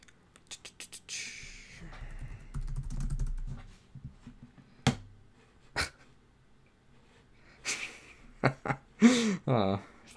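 Someone types on a computer keyboard at a desk, with rapid clicks at the start and scattered keystrokes and taps later, close and fairly quiet, and a voice speaks in places.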